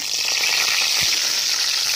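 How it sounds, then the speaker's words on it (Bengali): Prawn fritters wrapped in ash gourd leaves frying in hot oil give a steady, close, even sizzle that holds for the whole two seconds with no voices. "এবার আমি গরম তেলে বড়াটা ছেড়ে দেবো।"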